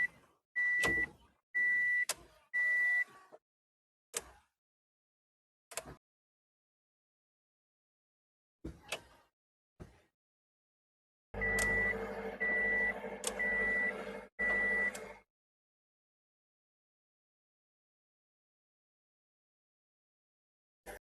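A replaced rear wiper motor on a 2004-2008 Subaru Forester, running in short repeated whirring bursts with a steady tone, separated by clicks and silences, then a longer run near the end.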